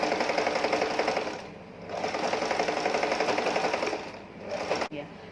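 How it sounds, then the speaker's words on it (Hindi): A sewing machine stitching a suitcase cover made from old jeans runs in a fast, steady mechanical whir, close and loud, pausing briefly once and ending with a sharp click. "अब एक सिलाई मैं इस पर भी लगाऊंगी ताकि ये अच्छी तरह से दब जाए और मजबूत हो जाए"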